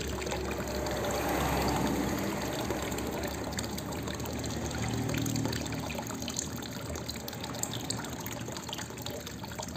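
Fine powder sand for an aquarium being washed in water, a steady close swishing and trickling of water with a constant bright hiss, continuous for about ten seconds, no talking.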